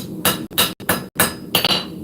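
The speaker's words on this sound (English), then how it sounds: "hammer stays in the same spot, and you move the steel" Repeated hammer blows on hot steel during hand forging, ringing metallic strikes landing in an uneven rhythm of about five hits, loud and close with no voices.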